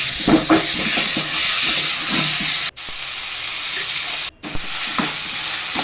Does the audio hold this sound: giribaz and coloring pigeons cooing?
no